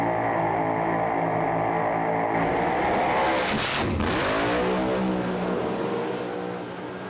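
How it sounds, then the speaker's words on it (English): Pro Alcohol drag racing cars rev their engines at the start line of a drag strip, a loud sustained roar with a sharp pitch sweep in the middle as the revs build and drop, no talking. "Just shows how much traction is available on that start line as these cars build the revs"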